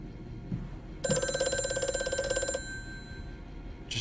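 An old telephone bell rings in the horror game Amnesia, one loud, steady metallic trill lasting about a second and a half and then cutting off into a quiet room.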